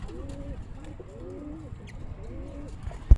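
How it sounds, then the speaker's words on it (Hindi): Fighter pigeons coo softly in three low, rolling phrases, close by, followed by a sharp knock at the end. "ये लास्ट कबूतरी है जो 7 लड़ते हुए लाया था हम"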